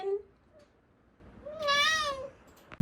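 A male pet cat lets out a single long, complaining meow, close and clear, with a whining rise and fall, after a quiet stretch with faint background noise.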